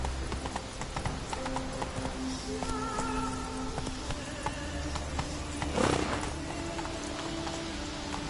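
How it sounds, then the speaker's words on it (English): The horse Roach galloping in The Witcher 3, rhythmic hoof clip-clops over a rumbling game soundscape, with a brief louder burst near the end. "Come on, Roach."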